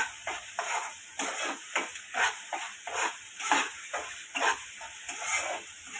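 Spice masala frying in hot oil for a spicy pea and potato curry, a steady close crackling sizzle with rhythmic stirring pulses roughly every half second and no talk.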